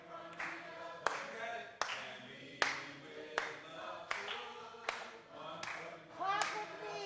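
At a morning gathering, people clap in a steady, evenly spaced beat along with a sung song, about nine sharp claps over singing voices.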